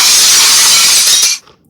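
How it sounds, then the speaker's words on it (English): A short glass-shattering sound effect: one loud, bright burst of breaking glass that hisses on for about a second before cutting off sharply, heard alone. "broken glass"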